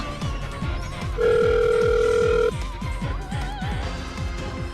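A telephone rings in the Closers video game: a steady electronic ring tone holds for just over a second. Game background music with a rhythmic beat plays throughout.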